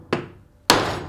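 A socket being hammered down onto the dust seal of a rear shock during a rebuild, two sharp metallic strikes about half a second apart, close and loud, each ringing briefly.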